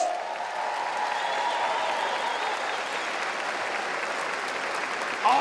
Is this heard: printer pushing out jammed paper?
no